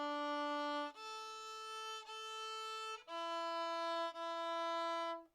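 A bowed violin repeats a four-note pattern in steady, even sustained tones. Each note lasts about a second, with slight breaks between them, and nothing else plays.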